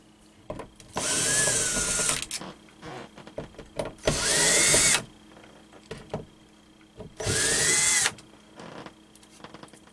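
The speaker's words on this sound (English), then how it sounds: "in order to get these electronics out, we've got to drill out these rivets from the back." Power drill boring out rivets from the back of a fluorescent RV light fixture, three sustained whining bursts of about a second each separated by quieter gaps, close and fairly loud.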